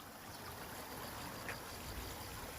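Steady, faint rushing of water flowing through an irrigation channel beside rice paddies in rural Korea, a continuous even wash with no voices.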